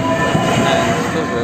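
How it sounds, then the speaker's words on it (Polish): Passenger train at Warszawa Reduta Ordona station, a steady close rumble of wheels and carriages rolling along the rails with faint squeals layered through it. "I nadjeżdża pociąg osobowy"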